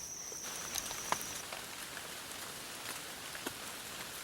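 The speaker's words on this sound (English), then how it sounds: "possibly you can hear the rain" Steady rain patters on a surface, with occasional sharper drops standing out against a constant hiss.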